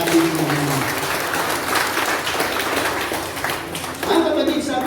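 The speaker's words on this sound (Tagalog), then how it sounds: "Isa pang malakas na palakpak sa ating Panginoon." A church congregation applauds loudly with sustained clapping during a Christmas service, while a voice speaks over the start and end of the applause.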